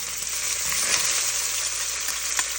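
Green chilies and curry leaves frying in oil in a pan, a steady loud hiss and crackle of sizzling close by, with a few faint clinks, and no talking.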